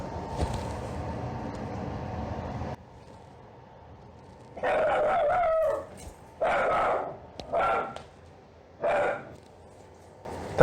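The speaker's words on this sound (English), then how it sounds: "My dog saw a cat outside. Wasn't too happy about it." A house dog barks at a cat outside in several loud, separate bursts after a stretch of steady background hum from a PS2 Slim console setup, with gaps of quiet between the outbursts.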